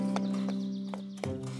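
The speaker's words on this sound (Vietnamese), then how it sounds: "Công chúa từ biệt lên đường rồi cưỡi lên mình Palada." Horse hooves clip-clop in a cartoon fairy tale as a princess rides off, a few spaced hoof clops over a sustained musical tone.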